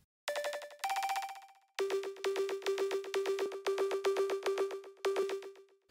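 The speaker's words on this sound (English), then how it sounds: "So it sounds like this with the vocoder equalizer." A resampled, textured synth lead in Reason passed through a vocoder and equalizer, playing a series of clipped, buzzy notes in a choppy rhythm, with two higher notes first and then a run of repeated lower stabs, clear and alone.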